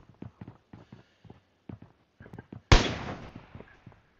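A single loud SKS rifle shot in a video game rings out sharply and decays over about a second, after a run of soft, scattered thumps like footsteps.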